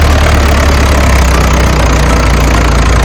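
A tractor engine straining to pull a stuck borewell truck in a forest area: a loud, steady, low engine drone with a knocking edge that runs unbroken throughout, and no voices.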